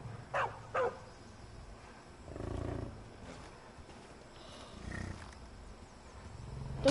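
Dog and bison clash in the video game Far Cry 5, with two sharp barks near the start followed by low, rumbling growls and snorts of the animals fighting, no talking.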